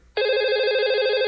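A telephone rings for the radio show's hotline with a single bright, steady electronic tone that starts abruptly and holds loud and close.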